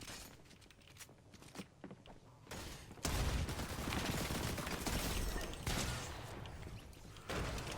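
Rapid gunfire erupts in a first-person shooter video game on a Halloween map, with a few scattered shots at first and then loud, sustained bursts of automatic fire.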